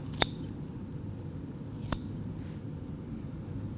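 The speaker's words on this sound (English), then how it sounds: "I'm going to go ahead and, with these shears, cut through it and open it up." Shears snip through a non-pregnant cow's reproductive tract during a dissection, two sharp, distinct cuts about a second and a half apart over faint room noise.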